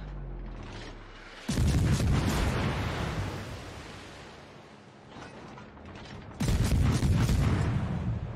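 In World of Warships, the Gallant's guns fire two loud salvos a few seconds apart. Each one bursts in sharply and decays into a heavy, rumbling roar.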